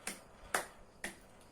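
Hand claps from a classroom clapping game: three crisp, evenly spaced claps about half a second apart, with a fainter fourth tap, close and clear with no talking.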